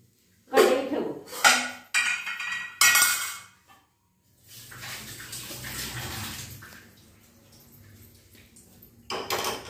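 A kadhai being set on a stove to heat: several loud metallic clanks and bumps close by, followed by a softer, steady rushing hiss and one final clatter.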